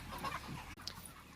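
Grown farm chickens give a few faint, brief clucks close by against a low background hum, with no talk.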